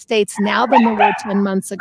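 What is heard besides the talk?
dog barking in the background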